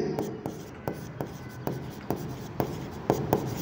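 Chalk or marker writing on a board in quick, regular taps and short strokes, close and clear, with a faint voice in the background.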